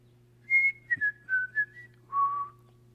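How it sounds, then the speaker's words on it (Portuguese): A person whistles the Campinas family whistle: a short melodic phrase of clear, close tones stepping downward, ending on a lower sustained note over a faint steady hum, no speech. "assobiamos o assobio campineiro"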